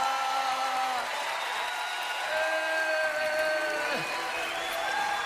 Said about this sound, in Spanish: dale un aplauso al Dios que es bueno